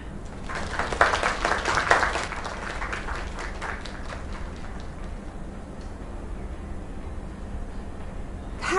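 Clapping from a crowd in a PS4 video game swells briefly at the start, then thins into scattered, fading claps over a steady low background hum.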